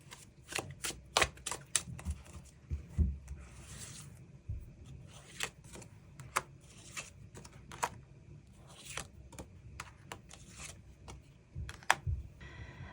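Tarot cards shuffled and drawn by hand, a steady run of quick crisp riffles and soft slaps repeating throughout, fairly close and quiet with no talking.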